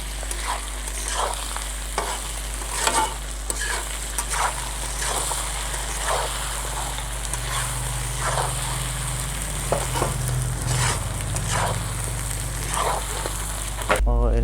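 Badel (wild boar) meat frying in a pan with ginger garlic paste, cumin and coriander powder, a steady close sizzle broken by stirring scrapes, with the cook talking now and then.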